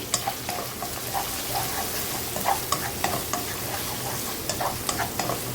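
Carrots and onion with a little salt sautéing in a pan, a steady sizzle with regular light stirring scrapes and taps, no speech.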